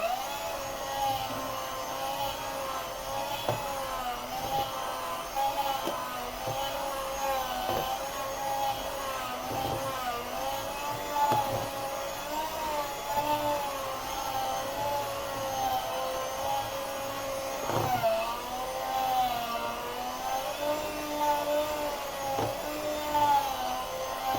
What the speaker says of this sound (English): Then I'm going to whisk it again.